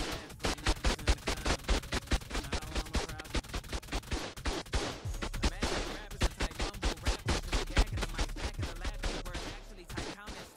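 Automated turrets in the ARK video game fire rapid, sustained bursts of bullets, a dense rattling stream of shots that runs nearly continuously for about ten seconds, loud and close.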